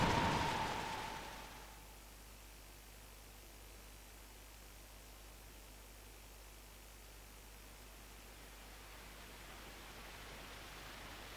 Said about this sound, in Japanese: 外すっごい嵐。